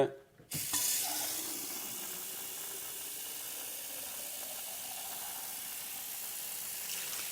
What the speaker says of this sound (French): Cette fois-ci, j'ai mis l'aérateur qu'on trouve habituellement au bout du robinet.